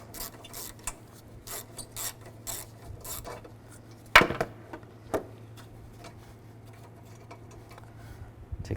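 A socket wrench backs out a 10mm bolt that holds down the PCM on a 2010-2017 Chevy Equinox. Faint, scattered ratcheting clicks sound up close, followed by a sharp clunk and a few softer knocks, with no speech.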